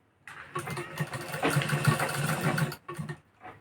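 A sewing machine runs a lock stitch on blouse piping, a close rapid mechanical whirring that starts abruptly, holds for a couple of seconds, then stops and restarts in two short bursts.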